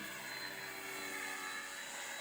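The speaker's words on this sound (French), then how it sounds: "Ils font voler leurs avions de chasse en modèle réduit" A steady, high-pitched engine whine drones continuously with no pauses, like a small jet-powered model aircraft running nearby.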